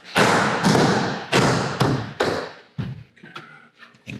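A urethane capsule panel thuds against the side of a Sprinter van several times, with dull knocks that come in quick succession and then thin out into lighter taps toward the end.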